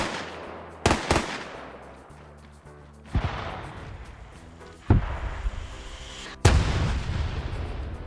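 Anti-tank round fired in a multiplayer military shooter strikes the back wall of a tower, four sharp booming impacts spaced a few seconds apart over a steady rumbling battlefield backdrop, loud and close.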